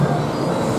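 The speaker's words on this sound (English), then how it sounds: "High in the sky, Seuss Trolley Train Ride." A Seuss Trolley Train Ride car rolling along its elevated rails at Islands of Adventure, Universal Orlando, giving a steady low rumble with faint wheel noise, close and continuous with no talk.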